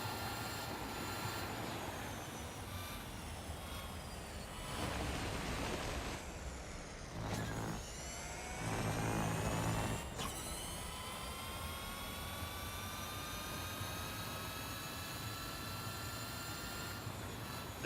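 Porsche Taycan Turbo GT racing in the mobile game Real Racing 3, with a continuous high electric-motor whine and rising and falling tonal sweeps as speed changes, steady and loud, without talk.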